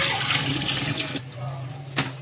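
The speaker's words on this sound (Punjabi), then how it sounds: "ਇਹਨੂੰ ਧੋ ਰਹੇ ਹਾਂ ਹੁਣ ਅੱਛੇ ਤਰੀਕੇ ਨਾਲ" Water gushes and splashes loudly and close as mutton meat is washed, then drops to a quieter trickle with a brief splash near the end.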